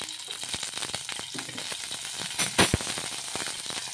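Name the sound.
green chillies frying in oil in a kadai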